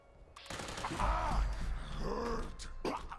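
A Tesla rifle in Fallout 76 fires at enemies in bursts of crackling, buzzing electric discharge, moderately loud and layered over game ambience with a few grunting enemy sounds.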